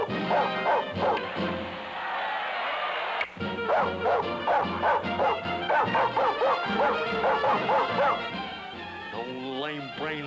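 A cartoon dog barks and whimpers in a 1962 animated short, with a quick run of high yips and whines and a sustained howl over music and a voice, loud and close throughout.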